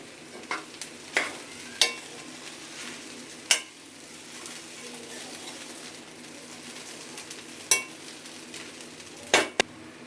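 Small cut chicken pieces sizzle in a pan for chicken noodles, a steady frying hiss broken by sharp clinks and scrapes of stirring at irregular intervals, close and fairly quiet, with no talking.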